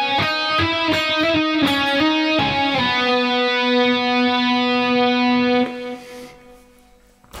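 Overdriven electric guitar plays the opening phrase of a solo, a quick run of bright sustained notes settling into one long held note that fades, heard alone and close.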